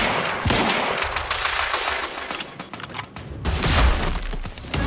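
Gunfire in the video game Quantum Break, a loud continuous rattle of rapid shots with sharp cracks and impacts, close and steady for several seconds with no talking.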